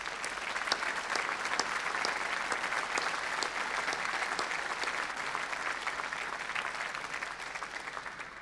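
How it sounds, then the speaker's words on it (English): Sustained audience applause for a presenter, a dense crackling round of many hands clapping throughout at an even, fairly distant level with no speech over it. "give Laura a massive round of applause"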